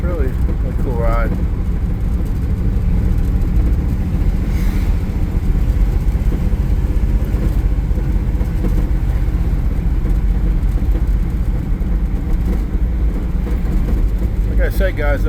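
Interior ride in a 1955 Chevrolet Bel Air two-door hardtop, with a loud, continuous low engine and road rumble droning steadily throughout and a few brief higher-pitched rattles or squeaks.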